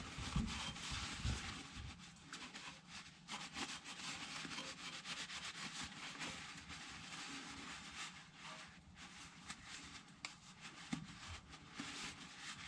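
A rag rubbing and wiping grease fittings on the driveshaft of a fifth-generation Toyota 4Runner, a faint continuous scuffing and rubbing with small knocks, close but quiet, with no talking.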